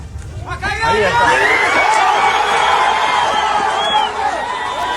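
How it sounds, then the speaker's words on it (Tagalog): A crowd at an earthquake rescue site amid collapsed buildings in Colombia bursts into clapping, cheers and excited shouting, loud and continuous, with overlapping voices rising and falling over several seconds. "palakpakan at sigawan na matapos makarinig ng tinig ng senyales ng buhay"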